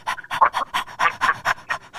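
A person's voice imitates a panting puppy dog with quick, rhythmic breathy pants, about nine short bursts in a steady run, close and fairly loud with no other sound.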